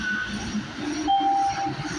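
An MBTA Red Line subway train approaches the station with a steady rumbling roar and rail hum that swells slightly toward the middle, heard from the platform and fairly loud throughout.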